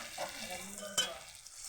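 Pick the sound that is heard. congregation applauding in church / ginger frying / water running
ginger frying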